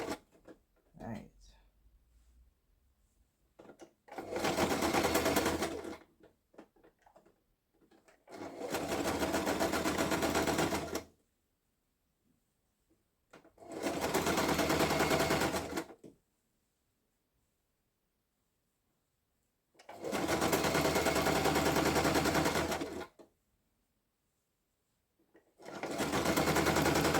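A sewing machine stitches a blanket being enlarged from queen to king size, running in five separate bursts of several seconds each, separated by quiet pauses, close and clear.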